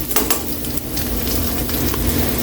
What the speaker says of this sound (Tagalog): Tayo lang natin mag-brown ng kunti yung bawang kaili.